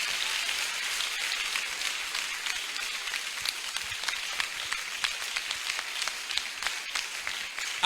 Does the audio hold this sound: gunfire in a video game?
no